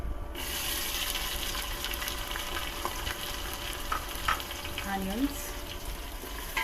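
Onions sauté in a mix of oil and ghee for a Hyderabadi veg biryani, a dense, steady sizzle and hiss filling the whole stretch, with a few faint clinks and a brief tonal sound near the end.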